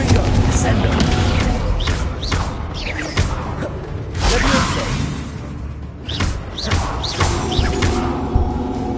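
Confringo blasting spell explosions in Hogwarts Legacy on PS5, heard as a few sharp, loud bursts that flare over dense game noise and a busy combat soundscape.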